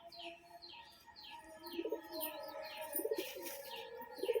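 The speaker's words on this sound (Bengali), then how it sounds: "লালশিরা মাদি পায়রা" Female Lalshira pigeon cooing in soft, repeated low coos, with brighter chirps from other birds scattered above and a faint wing flutter late on.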